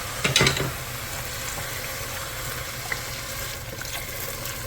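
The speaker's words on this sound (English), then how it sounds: "Let's go ahead and add some stock." Stock poured into browned sausage in a soup pot, a splashing, sizzling gush at the start settling into steady bubbling and frying, with faint clinks of a utensil.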